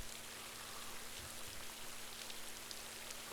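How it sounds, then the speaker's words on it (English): Steady rain falls in the video game Rising World, a constant soft hiss of drops that fills the short moment alone, with a faint low hum running underneath. "Oh, it's going to rain."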